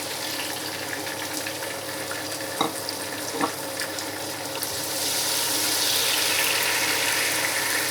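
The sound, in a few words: chopped tomatoes added to a pan, frying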